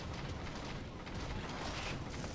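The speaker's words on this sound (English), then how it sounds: "Let's just drop some bombs on him." Bombs dropped on an enemy unit explode in the video game Airmech, giving a dense, continuous rumbling roar of blasts at low level with no clear gaps between them.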